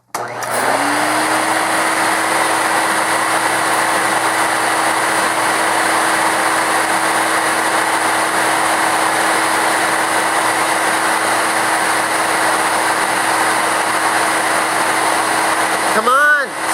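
Electrolux Epic 6500 vacuum cleaner running steadily at close range, a loud continuous motor whine and airflow hiss that holds unbroken for about fifteen seconds before a brief change in pitch at the end.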